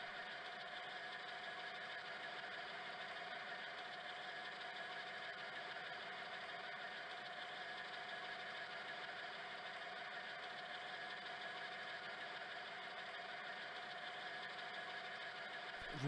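An industrial air compressor runs steadily with a constant mechanical hum and whine, even and unbroken throughout, heard fairly close with no talking.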